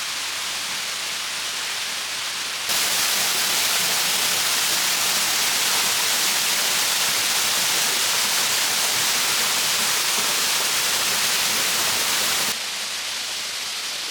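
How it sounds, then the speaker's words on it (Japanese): Waterfall pouring down from the top of a hotel building into a 1000-tsubo garden at a resort in Atami, a steady broad rushing roar that swells louder in the middle section and holds constant without talk. "建物の上から流れ落ちる滝は大迫力。"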